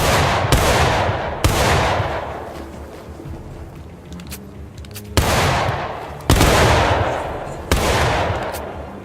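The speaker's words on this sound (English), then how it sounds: "Person on the right, Private Kyle, you'll begin when I say fire." Gunfire in a video game cracks out in a handful of sharp, loud volleys spaced a second or more apart, each with a short decaying echo, over quiet background.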